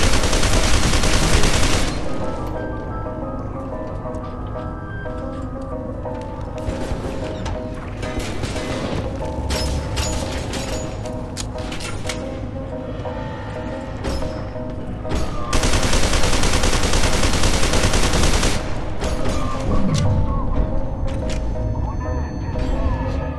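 Combat in the shooter game F.E.A.R. 2, with heavy bursts of gunfire and shock grenade blasts, loud at the start and again near the end, and a player talking between them.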